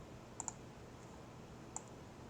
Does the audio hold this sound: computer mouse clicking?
yes